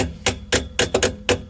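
Hammer blows tapping a replacement bolt through a shock absorber mount on the rear axle of a K11 Nissan Micra, six sharp metallic knocks in a loose, uneven rhythm, close and clear with no talking.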